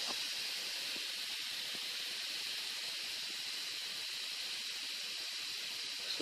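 Foaming volcano experiment fizzing and hissing as it bubbles over; a steady, even hiss holds throughout without breaks, fairly quiet and with no talk.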